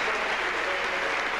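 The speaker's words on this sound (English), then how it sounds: "the crowd giving the ex-Leighton Orient man a warm round of applause as he comes off" Steady, dense applause from a football crowd at Griffin Park in 1988, a stand clapping warmly for a substituted player leaving the pitch, a continuous even wash of hand claps without pause.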